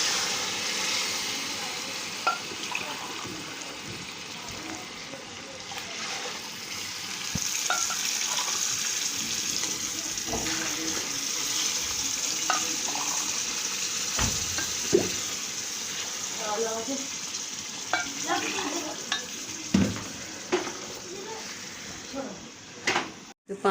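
Mutton yakhni stock and water heating in a cooking pot, a steady sizzling, bubbling hiss with occasional clinks and stirring knocks, continuing under a person talking nearby.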